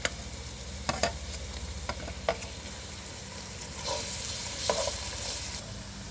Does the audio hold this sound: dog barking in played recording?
no